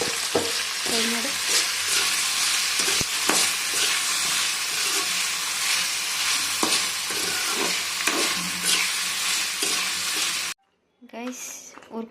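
Ingredients for restaurant-style kaju masala being stir-fried in a pan, a loud, dense sizzle with scraping stirs running for about ten seconds, then a brief pause before a fainter burst of frying.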